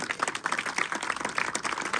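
Classroom applause for a student receiving an award at an academy: many hands clapping in a quick, even patter, fairly close.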